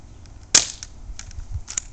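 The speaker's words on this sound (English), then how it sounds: "I'm just taking my shots with my paint gun" Paint gun fired outdoors: one sharp, loud pop followed by a few fainter snaps and thuds, close by, with no talking.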